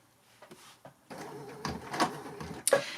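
A Baby Lock Sashiko sewing machine run by foot pedal, starting and stopping in short mechanical bursts of whirring and clicking, close and alone.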